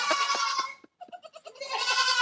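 A goat bleats in a few loud, wavering cries, broken by a short pause filled with quick stuttering bleats before a final long call, with no talking.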